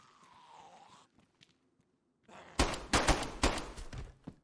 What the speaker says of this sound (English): To try my pistol for the first time.